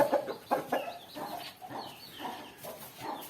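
A hen clucks repeatedly inside a new coop while laying, with short close calls at an uneven rhythm over a soft, steady background.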